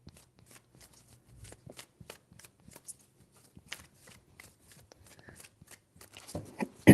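Tarot cards are shuffled over and over at close range, a quiet run of crisp riffling and flicking strokes that builds to a louder burst near the end, with no talking.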